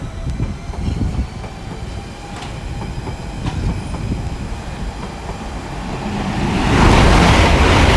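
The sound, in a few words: IET train passing through Ealing Broadway station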